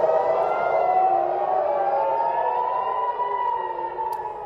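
Air raid warning sirens in Israel wail for incoming missiles from Iran, a steady rising and falling tone carrying loud and distant over open sky, continuous with no voices.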